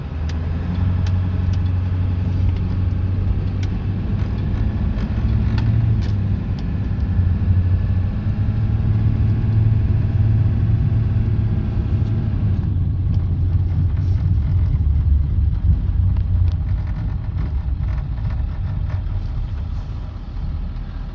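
A 1997 Ford F-250 pickup with the 7.3L Powerstroke diesel on a test drive, heard from the cab as a steady low engine drone and road rumble that holds for the whole stretch with slight swells in pitch.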